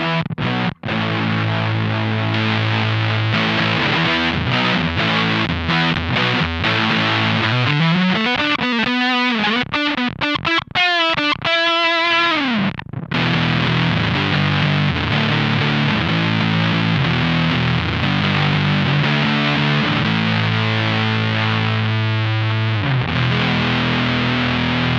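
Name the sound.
RonSound Hairpie Classic 75 fuzz pedal with mids boost, guitar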